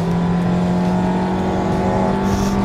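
A Kia Seltos 1.6 turbo (about 198 hp) pulling hard in sport mode, heard from the cabin as a steady, rising engine drone with a low tonal hum, continuous and fairly loud with no talking.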